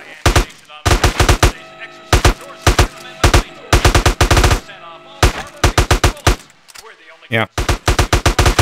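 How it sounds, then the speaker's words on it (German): AK rifle gunfire in GTA San Andreas: repeated loud, close bursts of rapid automatic shots separated by short pauses, with someone speaking briefly between them. "Oder ist das die AK? Ich glaube, das ist die AK."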